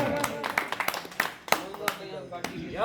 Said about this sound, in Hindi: एक बार तालियों के साथ स्वागत